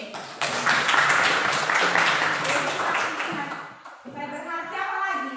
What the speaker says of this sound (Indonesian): Tepuk tangan dulu untuk Teddy.